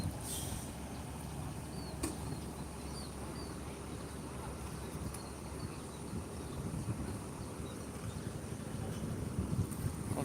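Steady wind buffets the microphone in a continuous low rumble, with faint distant bird calls and no clear voices.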